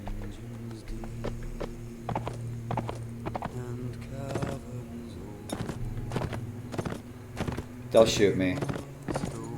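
Horse hooves in a video game clop along in a steady walking rhythm at moderate volume, with someone talking over them.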